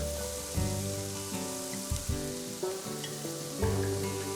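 Soft sizzling of chopped small tomatoes with garlic and onion frying in a pan for fish soup, a faint steady hiss beneath tonal background music.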